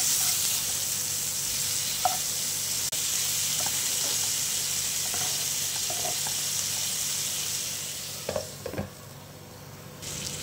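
Bangda (mackerel) fish fry sizzles in a pan after being turned over, a steady close hiss of oil with a few soft clicks and a burst of scraping near the end.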